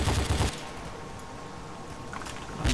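Gunfire from non-player characters battling zombies in the S.T.A.L.K.E.R. New Arsenal mod, set in Limansk: loud, close bursts at the start and end, with quieter, more distant shots in the stretch between.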